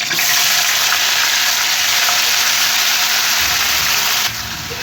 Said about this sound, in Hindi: अब हम सेम फली रोस्ट कर लेंगे।